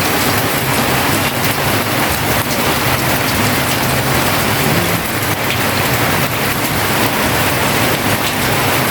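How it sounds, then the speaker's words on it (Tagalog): Heavy rain pours down steadily around a house, a loud, dense, unbroken hiss of drops on surfaces with no pauses, close and constant throughout. "Lakas kasi ng ulan."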